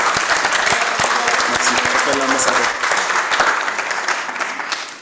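An audience at a formal youth council launch ceremony bursts into loud sustained applause that tapers off toward the end, while a voice speaks briefly over the clapping.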